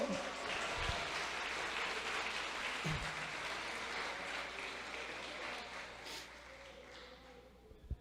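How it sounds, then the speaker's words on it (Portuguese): A church congregation at an ADEV service applauds in praise, a steady wash of many hands clapping at a distance, fairly faint overall, with a couple of low thumps mixed in. "Aplauda o Senhor, glorifica o Senhor"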